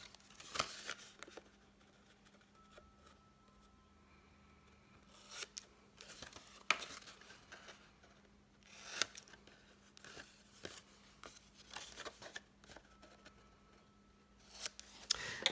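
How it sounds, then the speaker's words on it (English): Snips cut through a cardboard box from the score line inward, giving a series of quiet crisp snips and rustles spread over a faint steady hum, fairly close and with no voices. "And then I'm going to cut from the score line in."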